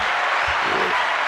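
Brief burst of clapping from a small group or studio audience during a podcast, a dense short patter of hands at moderate loudness with faint voices mixed in.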